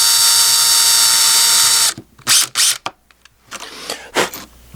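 A power drill bores a small pilot hole for a rivet in a Tuff Gear Nomad baldric carry strap: a loud, steady high-pitched whine for about two seconds, then several short bursts of drilling with brief gaps between them.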